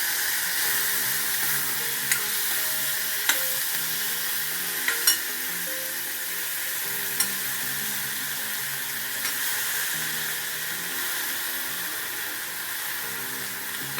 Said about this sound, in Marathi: आता चार घालायचा कोबी घालायची